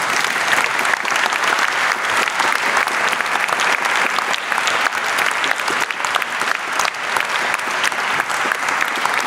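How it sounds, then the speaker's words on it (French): Dense, loud audience applause fills a lecture hall at a talk on quantum physics, steady and sustained throughout with no break. "Si vous trouvez que c'est une bonne initiative, applaudissez-le"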